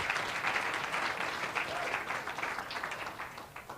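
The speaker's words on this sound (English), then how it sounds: "Let's give them a round of applause for that." A crowd applauds steadily, a dense wash of clapping that holds for a few seconds before starting to fade.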